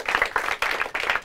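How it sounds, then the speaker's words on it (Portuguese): Brief applause for a team after a quiz final's scores are read, a short burst of clapping in a few rhythmic pulses, moderately loud and close. "Palmas para eles!"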